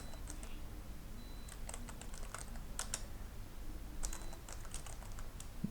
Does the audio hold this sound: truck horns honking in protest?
no